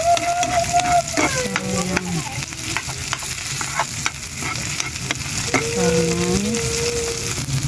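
Crushed tomatoes fry and sizzle in a pan, stirred with a utensil that scrapes and clinks repeatedly against it, close and steady throughout.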